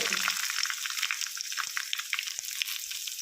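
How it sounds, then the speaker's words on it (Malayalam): Chopped shallots and popped mustard seeds frying in hot oil for tempering, a bright crackling sizzle with sharp spitting pops, close and steady throughout. "നമ്മുടെ കടുവൊക്കെ പൊട്ടി വന്നതിലേക്ക് ഒരു ചെറിയ ഉള്ളി അരിഞ്ഞതിട്ട് കൊടുത്തിട്ടുണ്ട്"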